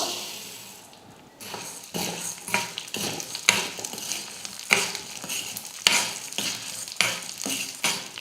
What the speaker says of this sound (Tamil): உளுந்து ஒரு பாதி அளவுக்கு நல்லா வறுப்படணும்